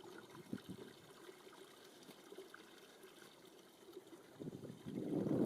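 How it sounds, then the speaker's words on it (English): A narrowboat bilge pump emptying the engine bay: faint trickling and splashing of water, soft and intermittent, swelling into a louder gush toward the end. "Well, if nothing else, got the bilge running."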